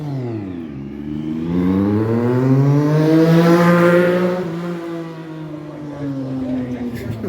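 A Triumph engine revs through a new muffler, the pitch climbing in a smooth sweep, holding high, then falling and rising again. It is close and fairly loud, with no talk.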